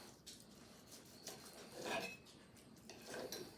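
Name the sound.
knife cutting a piece off a grilled ribeye steak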